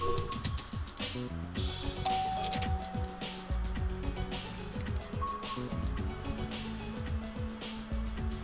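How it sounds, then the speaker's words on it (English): A doorbell in the video game The Silver Case chimes over a dense, busy backdrop of game music and noise, with a clear tone around the middle. "Ring some doorbells?"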